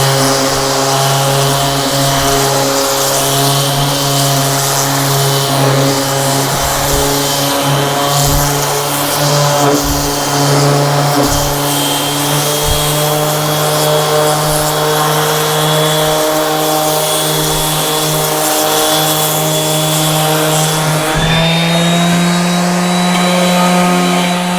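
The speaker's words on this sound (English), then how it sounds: "I'm going to do a little sanding here." Sanding a wooden plaque with a power sander, a loud, continuous droning whine running unbroken throughout, close up, with faint rubbing and scratching under the motor noise.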